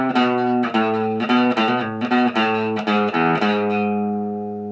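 A distorted electric guitar plays a short melody of distinct picked notes, ending on a sustained note that slowly fades.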